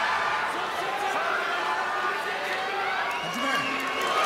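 Large arena crowd at the Judo World Championships roaring and cheering in a continuous wash of sound, with announcer voices talking over the noise.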